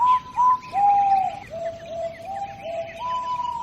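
Clear, whistled bird song with long sliding tones and short chirps, loud and close, repeating in phrases over a quiet background.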